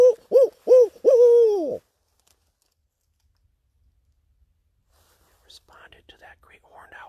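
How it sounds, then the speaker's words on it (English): A barred owl calls in a rhythmic series of loud, close hoots, four quick calls ending in a drawn-out one, then quiet with a faint softer call afterward. "That's a barred owl calling back."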